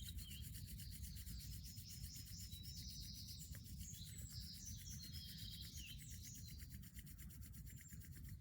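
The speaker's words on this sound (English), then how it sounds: "And then just rubbing your hands," Hands rubbing together to build heat, a steady close dry friction rasp that continues evenly throughout, with faint bird chirps in the background.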